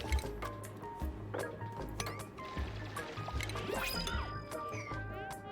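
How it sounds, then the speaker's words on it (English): Water leaking and dripping from a deconstructed pipe in the colony game Oxygen Not Included, small liquid splashes and trickles over looping game music at moderate volume. "Some water might leak down there,"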